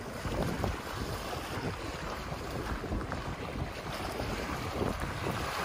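Strong, steady wind roars and buffets the microphone outdoors on the north shore of Big Bear Lake, with a constant low rumble and gusting noise and no voices.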